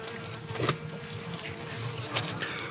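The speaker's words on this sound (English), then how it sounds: "Nothing but some worker bees. No queen." Worker honey bees with no queen buzz close by, a faint continuous drone with a few louder passes as individual bees fly near.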